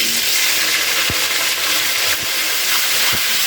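Cauliflower fries in hot oil with cumin seeds for a Bengali cauliflower-and-potato curry, giving a loud, steady, close sizzle with a few soft clicks of stirring, and no talking.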